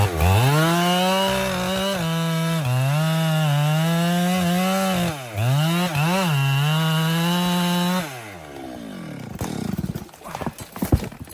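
A chainsaw cutting a large tree: a loud, steady, high engine whine with several short pitch dips, then rougher, uneven cutting and crackling sounds at the end. No talking.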